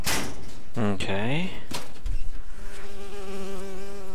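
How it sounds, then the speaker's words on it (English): Bee buzzing in BioShock Infinite, a loud close droning hum that rises and sways amid talk and a sliding clatter, holding steady near the end. "it's a bee. I hate these things."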